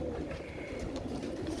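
Royal Teddy pigeons coo softly in a low, rolling murmur, close but quiet, with faint background noise and no voices.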